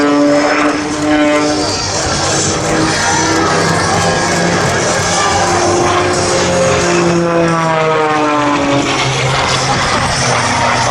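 A propeller aerobatic plane flies consecutive hammerhead manoeuvres at the Wings Over Illawarra airshow, its loud droning engine rising and falling in pitch as it climbs and pivots, with crowd noise underneath throughout.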